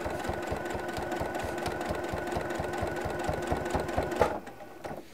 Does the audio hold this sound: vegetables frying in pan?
no